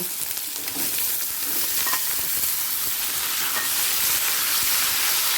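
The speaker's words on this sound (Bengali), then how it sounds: "পেঁয়াজটা হালকা লাল করে ভাজা হয়ে গেছে এই সময় দিয়ে দিচ্ছি কেটে রাখা আলু" Cut potatoes hiss and sizzle steadily in hot oil with lightly browned onion and garlic, with stirring scrapes and occasional spatters, close and continuous.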